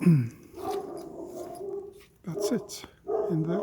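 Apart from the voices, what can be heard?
dog barking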